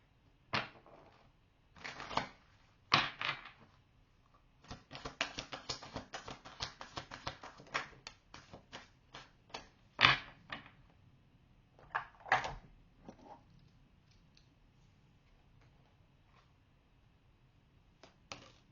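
Wisdom oracle cards being handled and shuffled, a quiet series of crisp flicks, taps and riffles in irregular bursts, close and alone.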